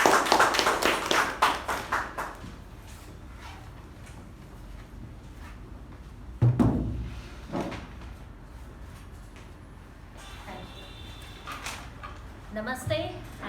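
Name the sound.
audience applause welcoming the Toastmaster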